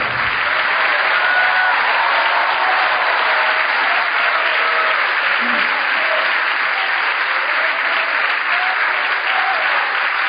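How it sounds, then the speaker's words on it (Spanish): A church congregation at an evangelical service applauds in a steady, dense wash of clapping that stays loud and even, with no voices breaking through. "Dele aplauso al Rey de Reyes por la palabra."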